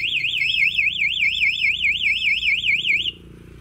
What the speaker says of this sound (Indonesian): senggolan kedua dia durasinya agak lama untuk suara buzzer atau alarmnya